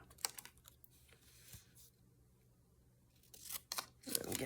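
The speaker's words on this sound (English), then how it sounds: "Only thing is these little scissors are a little harder for these." Small scissors snip paper for a tiny junk-journal notebook. Faint, scattered cutting clicks and rustles come close up in a quiet room, bunched mostly at the start and end.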